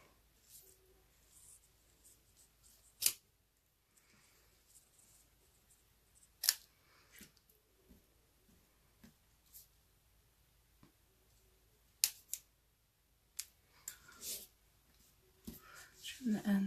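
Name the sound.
scissors trimming the ends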